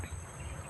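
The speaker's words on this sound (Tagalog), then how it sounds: "Naku, ang daming lamok." A thin, high insect whine hums steadily through a brief, quiet moment, mosquitoes buzzing close by.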